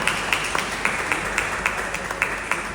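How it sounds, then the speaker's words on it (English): An audience at a council on ageing annual general meeting gives a faint round of applause, steady scattered clapping heard from a distance. "Give them a round of applause."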